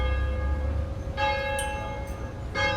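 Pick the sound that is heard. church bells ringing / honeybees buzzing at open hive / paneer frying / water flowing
church bells ringing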